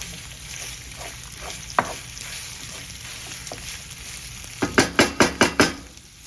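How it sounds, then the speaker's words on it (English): Sausage browns with garlic and shallots in a pan, a soft continuous sizzle broken by a single scrape, then a quick run of sharp utensil knocks against the pan near the end. "Chop it up, get it into small bits, let it brown with the garlic and the shallots."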